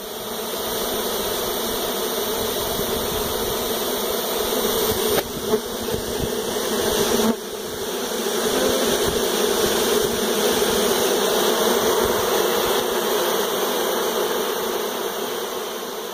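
Dense, steady buzzing of honey bees swarming around a hive after a forced abscond from a tree, a continuous close drone lasting throughout with a couple of brief handling bumps.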